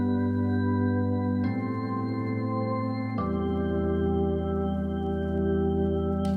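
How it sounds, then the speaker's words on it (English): Retro keys processed through the RC20 Retro Color plugin, a sustained chordal part with a gentle pitch wobble that stays steady and loud and shifts chords twice, with no one speaking. "you get that wobbly sound again, which I really love"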